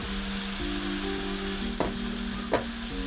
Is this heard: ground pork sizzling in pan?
yes